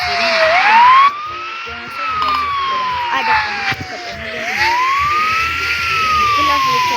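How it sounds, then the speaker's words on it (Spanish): A police siren in the Roblox game Brookhaven wails in slow rising and falling sweeps, loud and close, with faint background noise. "Es que tiene otro sirena."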